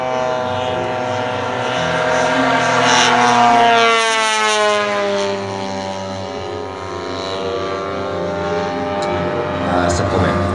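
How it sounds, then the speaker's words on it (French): Propeller aircraft engine held at full throttle during an air show opening, a loud sustained roar with a sweeping pitch as the plane passes close by, swelling and then easing, with a voice talking over it. "c'est l'hélice qui passe en permanence à plein gaz et la vitesse du son"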